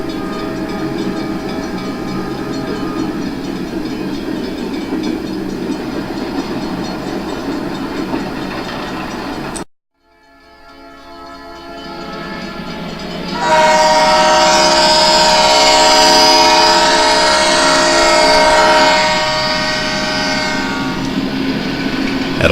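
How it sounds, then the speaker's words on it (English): A long simulated coal train made up of hopper cars rolls through a station on a virtual model railroad. A steady rumble cuts out briefly, then returns louder with a sustained horn blast over rolling wheels. "The train continues on through Kingsport Station."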